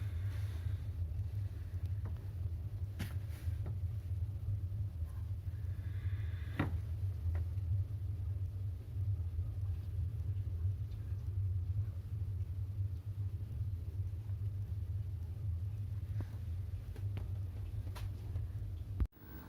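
A Toyota RAV4 2.0 engine with about 228,000 km, idling with a steady low rumble and a faint, regular ticking knock from a worn connecting rod bearing.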